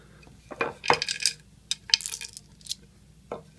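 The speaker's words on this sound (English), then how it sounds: "there's all kinds of room in there for the dice to roll around" Dice clatter and roll across an H&S Games felt-lined dice tray in a few quick bursts of clicking and tumbling, close and fairly bright, ending with a last short rattle.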